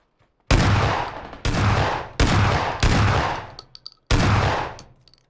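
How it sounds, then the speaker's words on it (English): Five loud, separate S12 shotgun blasts in PUBG, fired at long range with uneven gaps of roughly half a second to a second, each a sharp crack trailing off into a brief decay, with no talking. "Going for the long-range S12 shots."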